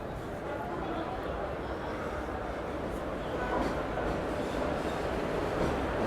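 An Indian Railways WAP 4 electric locomotive from Vatva shed pulling a train into a station platform, a steady low rumble of rolling wheels that grows slightly louder toward the end.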